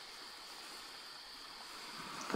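A flowing water stream in the dinosaur survival game Beasts of Bermuda, a steady soft rushing wash at low volume throughout, with no voices.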